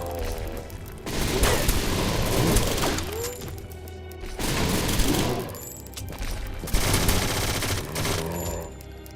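A Lewis MK machine gun fires in a zombies video game, loud sustained bursts of rapid automatic fire with short pauses between them, alone without talk.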